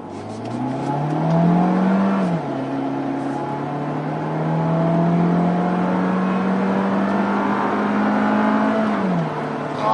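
A car engine revs up steadily, pitch climbing past 1000 rpm, then shifts and climbs again in a long smooth pull, heard from inside the cabin on a test drive.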